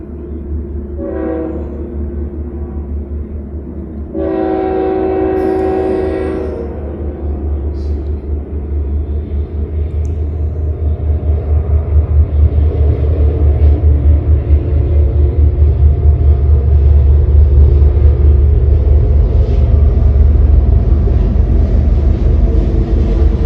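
A loud train horn sounds twice near the start, then the heavy rumble of a passing train builds and continues steadily to the end.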